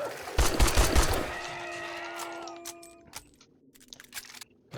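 A burst of rapid gunfire rings out in 7 Days To Die, several close, sharp shots in quick succession followed by a ringing metallic tone and scattered clicks and clatter.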